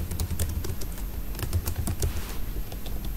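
Someone types on a computer keyboard while entering data into an Excel salary slip, a close, steady patter of quick key clicks with brief irregular pauses and no speech.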